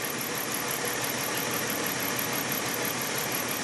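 Car engine idling, a steady unbroken hum and rumble held at constant level throughout, close and alone.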